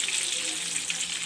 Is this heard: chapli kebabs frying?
yes